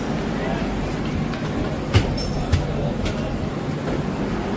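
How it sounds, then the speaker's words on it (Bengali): The 12377 Padatik Express rolls from Sealdah toward New Jalpaiguri, heard from inside as a continuous rumbling drone. Two sharp clunks from the wheels or couplings break through the noise. "12377 পদাতিক express up Sealdah new Jalpaiguri যাত্রাপথে ট্রেন শুরু হয়ে গেছে আমাদের"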